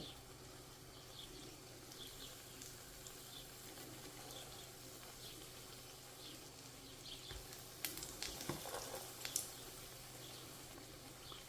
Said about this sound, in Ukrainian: Далі кожний кусочок опускаю у кляр і викладаю у фандел.